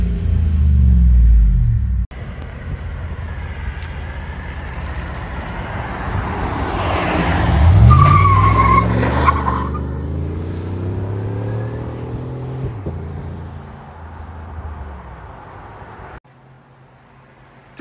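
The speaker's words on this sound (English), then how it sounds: "Just did a muffler delete. Not too loud, but deep tone." A Chevy Tahoe's 5.3L V8 with a muffler delete rumbles deep and loud at idle, swells in a rev around the middle, then settles back before cutting out near the end.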